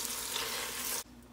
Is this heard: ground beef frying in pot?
yes